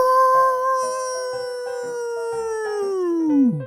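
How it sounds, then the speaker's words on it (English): A hound dog lets out a long, loud, close howl that holds a steady tone and then slides downward at the end, with no talk over it. "Geez, Sammy, why do you always have to howl when you smell me?"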